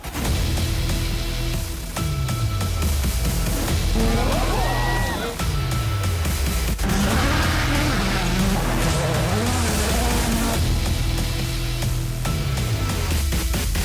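W Series single-seater race cars of the women-only championship accelerate at a race start, engines climbing in repeated rising sweeps amid loud, continuous crowd and circuit noise.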